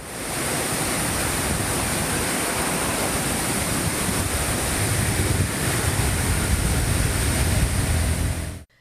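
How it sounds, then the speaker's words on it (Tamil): Rain-swollen Katteri waterfall near Coonoor roars in a steady, loud broadband rush of falling water, continuous and close with no voices. "தண்ணீர் ஆர்ப்பரித்து கொட்டுகிறது"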